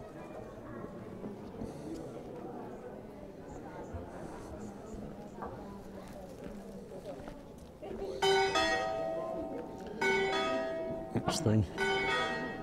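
Church bells ring at 1:45 near a convent during the Campos market in Mallorca. Steady outdoor street noise comes first, then loud, resonant bell strokes sound repeatedly over the background, and people talk nearby.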